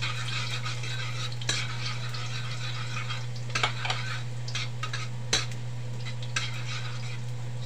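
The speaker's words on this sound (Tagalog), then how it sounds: "So unahin natin tong bawang guys. So dating gawin, medyo pag-brownin lang natin to." Garlic browning in a pan, with a steady sizzle from the hot oil and intermittent scraping and clinks as a utensil stirs it, close and alone under a constant low hum.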